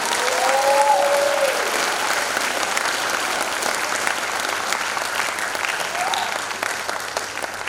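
Sustained applause from an audience honoring the class of 2029 at a Grade 8 promotion ceremony, dense and even throughout, with a brief cheer or whistle near the start.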